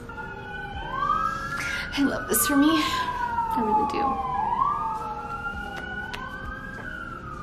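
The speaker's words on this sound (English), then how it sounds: "And here come the lovely morning sirens." Distant emergency sirens wail, rising and falling over several seconds, while someone talks nearby over the top.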